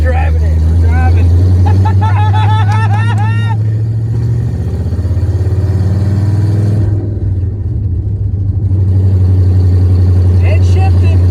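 A pickup truck with a HEMI engine runs steadily with a low droning hum, rising slightly as it drives, with people talking over it.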